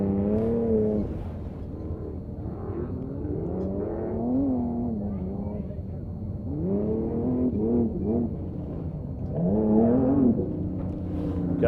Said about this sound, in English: the Nissan VQ35 V6 naturally aspirated buggy